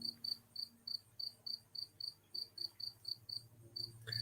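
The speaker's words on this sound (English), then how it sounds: "You hearing that cricket behind me?" A single cricket chirps outdoors in Pennsylvania, a faint, steady series of evenly spaced high trills repeating about three times per second behind a quiet background.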